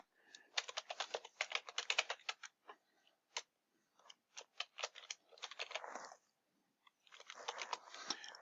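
Someone types a username and password on a computer keyboard in quick bursts of clicky keystrokes, close and fairly quiet, broken by short pauses and single taps, with no one talking.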